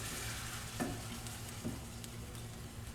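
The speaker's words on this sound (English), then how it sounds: "we're gonna add it as Kathy stirs" Flour being stirred into vegetable broth in a pot for paprikash, a soft steady scraping and swishing with a faint simmering hiss underneath and two brief clinks of the spoon against the pot.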